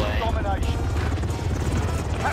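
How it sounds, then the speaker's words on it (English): Helicopters flying overhead in the Call of Duty Modern Warfare video game, a steady rotor thumping and rumble under constant background noise, with a voice talking over it. "I'm gonna wait for these helicopters to go away."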